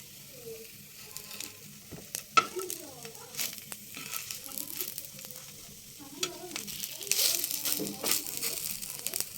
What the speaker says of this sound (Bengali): হালকা একটু লালচে লালচে করে ভেজে নেব,